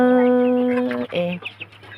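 Chickens cluck close by with a sustained, tonal call giving way to several shorter clucks, and the birds stay in front of a low steady background hum.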